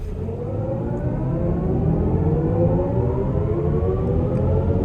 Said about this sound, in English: That was full throttle, really full throttle, and it was quite fast